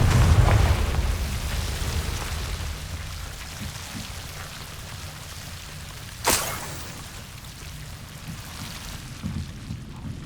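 A single sharp Confringo spell explosion in Hogwarts Legacy cracks out over quiet, rain-like ambient game noise, followed by a faint rumbling tail and a few small later knocks.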